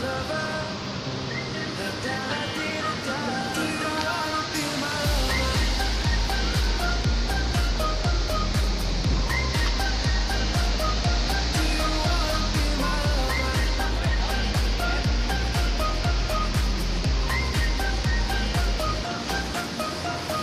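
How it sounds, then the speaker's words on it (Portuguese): Continuous rushing roar of a waterfall at Cachoeira da Torre in Cubatão, steady and broadband, swelling louder after the first few seconds with faint clicks and rustles mixed in. "Estamos chegando na segunda cachoeira."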